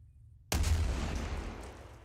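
A tank's main gun fires once in a video game: a sudden, loud, close cannon boom with a long rumbling decay and no talking.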